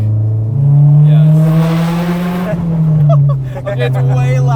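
Honda S2000 AP2 track car with a naturally aspirated engine revving loudly inside the cabin with the windows down, a strong steady drone that rises and falls, with people talking over it.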